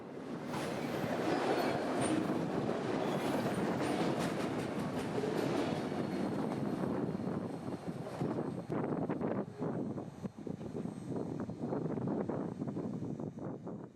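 A freight train with auto racks rolls past on the rail line, a loud sustained rumble of railcars with rhythmic wheel clatter that grows more broken and clacking toward the end.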